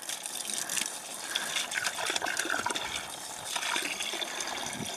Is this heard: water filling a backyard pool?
yes